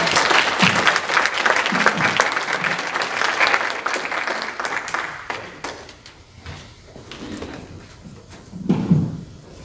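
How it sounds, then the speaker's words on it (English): An audience at a university landscape symposium gives a full round of applause. The many-handed clapping is strong at first, then thins out and fades after about six seconds, and a voice briefly speaks near the end. "Please give him a round of applause."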